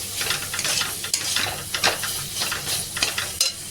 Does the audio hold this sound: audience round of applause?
no